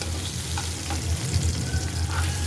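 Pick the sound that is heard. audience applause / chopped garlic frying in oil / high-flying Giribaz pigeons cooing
chopped garlic frying in oil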